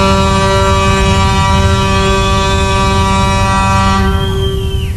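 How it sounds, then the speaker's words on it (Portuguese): A loud, steady air horn blares on a TV game show stage, holding one long, continuous tone for about four seconds before it cuts off. "Quando estoura a buzina é..."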